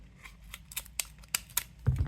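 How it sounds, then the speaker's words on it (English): A few sharp scissor snips cutting packaging, spaced unevenly and close up, followed by a rustle of packaging at the end. "I forgot I have scissors."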